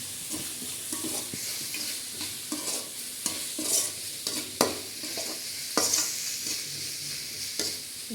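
Green chilies being sautéed in a pan for vegetable macaroni, with a continuous sizzle broken by repeated scraping stirs of a spoon against the pan, close and without speech.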